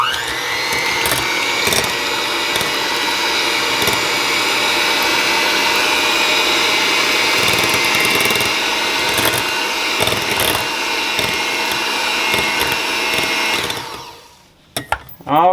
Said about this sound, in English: 3 eggs. Okay? I'm going to whisk them up.